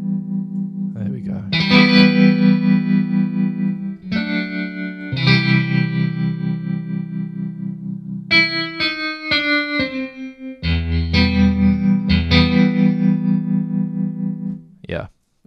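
Westwood Instruments Novella Origin sample library played through simple effects: a run of sustained, bright harmonic notes and chords with distortion, chorus and reverb, steady and fairly loud, with pauses between phrases.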